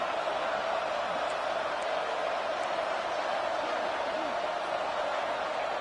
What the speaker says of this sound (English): This crowd is trying to inspire this defense to make a big red zone stop.